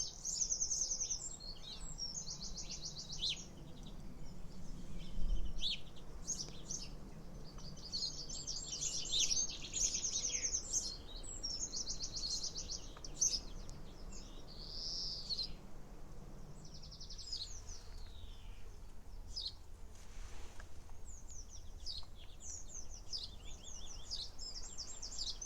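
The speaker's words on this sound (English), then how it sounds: "the sparrows and the robin and other birds as well, blue tits, really enjoy sitting in there" Garden birds in a hawthorn beside an old cottage, with sparrows, a robin and blue tits, give repeated high chirps and song phrases at moderate distance over faint background hum, without talk.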